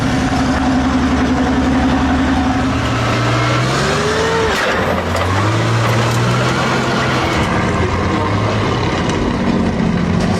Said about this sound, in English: the sound of metal tracks clanking against the ground, accompanied by the roar of an engine